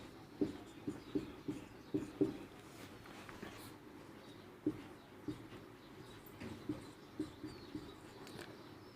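Hand-written elements being marked on a board or paper during a maths lesson on relations and functions, heard as faint, irregular tapping and scratching strokes in short bursts, with no talk.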